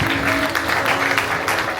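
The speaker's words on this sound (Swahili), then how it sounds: "Shangilia Bwana kwa makofi mengi." Congregation clapping for the Lord at a Swahili-language church service, a steady dense wash of many hands throughout, fairly loud and close, with faint voices underneath.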